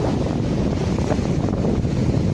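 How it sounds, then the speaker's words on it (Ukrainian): Sea waves breaking on a clay shore along the Azov coast, a steady broadband wash with strong wind buffeting the microphone throughout, no distinct individual wave crashes standing out. "Тут хвилі б'ються об берег, тому вода з глиною, каламутна."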